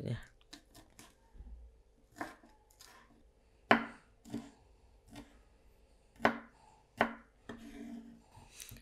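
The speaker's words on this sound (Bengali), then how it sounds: "চারটা মরিচ নিয়ে নিয়েছি আর মরিচগুলো খুব পাতলা পাতলা করে কেটে নেবো" Knife chopping four green chilies into thin slices on a board, a series of sharp, separate cuts at an uneven pace, close and clear, with a voice talking faintly in places.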